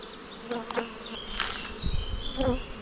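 Honey bees buzzing around hive frames during an inspection after the acacia honey flow, a steady close insect drone with rising and falling individual buzzes passing near the microphone.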